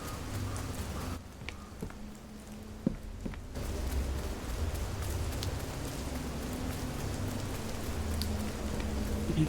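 Steady rain pours down in New Fears to Fathom: Ironbark Lookout, a dense, continuous hiss that dips briefly near the start and then returns at full strength, with a sharp knock or two mixed in.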